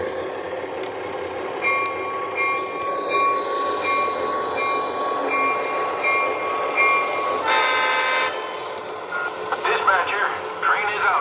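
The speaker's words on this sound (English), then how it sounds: "let me move this train." An O27 toy model train runs on Fastrack with a steady close rumble and clatter, with long sustained horn-like tones, a brief burst of higher ringing sounds near the end, and faint talk in the background.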